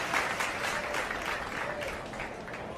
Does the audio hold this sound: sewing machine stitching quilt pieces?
no